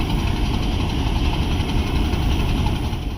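The Mehr Express locomotive, power 8041 SBU20, idles at Rawalpindi railway station in Pakistan, giving a steady, close, low diesel rumble with a constant hum and no break.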